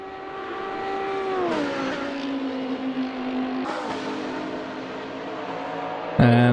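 Lamborghini GT3 race car in a racing video game at Silverstone, its engine holding a steady high drone down the straight, with a gear change partway through and a sharp burst near the end.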